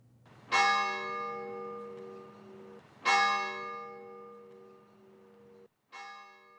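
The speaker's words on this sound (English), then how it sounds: "That silence broken by bells tolling at many schools and churches in memory of those who were" Church bells toll slowly in memory of the victims of the Connecticut school shooting, three resonant strikes each ringing out and decaying in a quiet setting with no voices.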